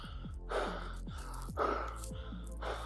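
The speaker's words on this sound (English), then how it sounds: "mouth open, big heavy panting" A person after sprinting during soccer training pants heavily through an open mouth, four or five loud rhythmic gasping breaths close to the microphone with no talk.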